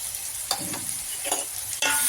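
Salt being stirred into an egg and dried fish curry in a pan, with steady sizzling and a few louder scraping stirs of the spoon, close and without talk.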